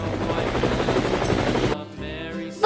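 Pink and grey cartoon helicopter in a Paw Patrol children's video game whirring with a steady, close rotor chop, which cuts off abruptly near the end as a voice begins speaking.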